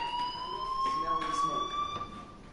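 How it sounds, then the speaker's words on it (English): A fire alarm rings in the video game Life is Strange as a steady high electronic tone sounding continuously, with faint talk in the background. "do you hear that fire alarm?"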